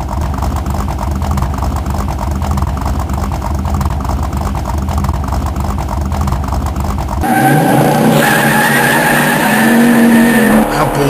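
A car engine roars with racing-like noise and tire skid, then an abrupt shift to a louder, harsher scraping and rumbling texture near the end as the car runs on a flat tire.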